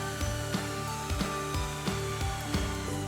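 A power drill with a Phillips head bit drives screws into wood for a DIY project, a steady whirring motor hum broken by regular clicking bursts about twice a second, close and fairly loud.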